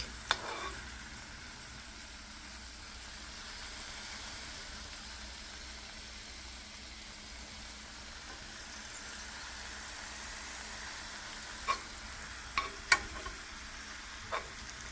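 Spinach sizzles and wilts in a frying pan during a veggie scramble, a soft, steady hiss running quietly throughout with a few sharp clicks or taps near the end.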